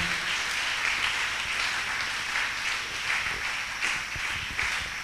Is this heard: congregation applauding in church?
yes